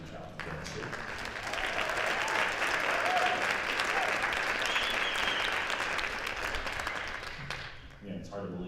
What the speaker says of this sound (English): let's give another round of applause to both soloists with Henry, Army Child, and Garrett Street.